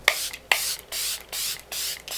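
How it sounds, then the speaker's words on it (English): Charlotte Tilbury setting spray misted onto a made-up face in about five quick, close hissing pumps with brief gaps between them. "set the skin with the Charlotte Tilbury setting spray"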